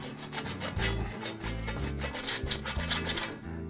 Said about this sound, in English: we just want to give it a little bit of love with the sand cloth